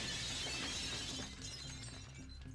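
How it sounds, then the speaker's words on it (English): A digital glass-shatter effect from the Marvel Legendary video game, a single bright crash with tinkling shards that quickly decays over a low hum, fairly quiet overall. "we're going to go ahead and shatter once"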